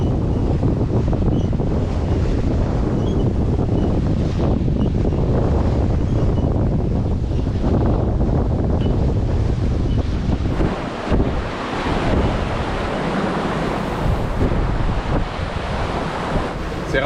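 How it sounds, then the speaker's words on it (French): Strong wind on open water while sailing at about 16-17 knots near Lunenburg, roaring into the microphone over a continuous wash of waves against the hull, loud and unbroken, with brief gusty dips. "On a un beau vent là, qui se tient autour de 16-17 nœuds."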